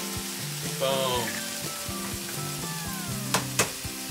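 Eggs frying in a pan, a close, steady sizzle and crackle with a few sharp clinks and scrapes of a utensil near the end, no voices.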